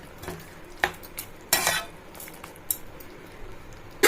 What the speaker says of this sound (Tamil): கல் உப்பு சேர்த்துக்கலாம் அதையும் சேர்த்து கொஞ்சம் கிளறி கொடுத்துடலாம்